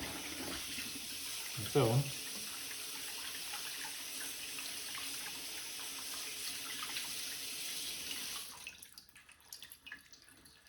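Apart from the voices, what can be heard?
running tap water rinsing horseneck clams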